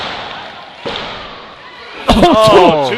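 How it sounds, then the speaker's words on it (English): A wrestler comes down with a frog splash onto the ring canvas at a PPW event, a single heavy slam landing hard and close, followed by excited commentary talking over a rumbling crowd. "Rolling senton into a frog splash."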